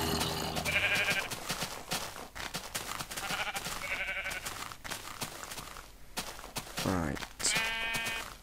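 Minecraft sheep bleat in several wavering calls scattered through the clip, mixed with game noises and talking voices.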